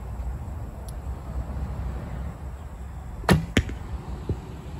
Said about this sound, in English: Seems like these arrows are just zipping through the air now.